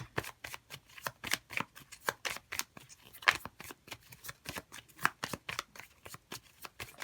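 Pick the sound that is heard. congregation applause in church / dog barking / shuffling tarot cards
shuffling tarot cards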